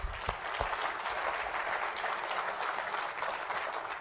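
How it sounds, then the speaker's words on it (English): Steady applause from a conference audience for staff and business partners: a continuous wash of many hands clapping at moderate volume for about four seconds, with a couple of sharper claps near the start. "Yes, an applause there again."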